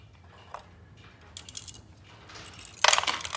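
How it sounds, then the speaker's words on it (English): Screws fall inside the case of a mid-century Haid clock, FHS 141-030, during servicing, producing a few small metallic clicks and rattles, faint at first, then a brighter cluster of close jingling near the end, with no talk. "Some of the screws fell in there."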